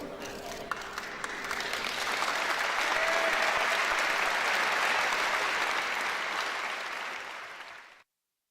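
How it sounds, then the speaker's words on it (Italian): Crowd applauding a sports team at the end, many hands clapping in a dense wash that swells after a brief start, holds steady and loud, then cuts off abruptly, with voices faintly underneath. "abbiamo sentito anche l'applauso finale per la squadra"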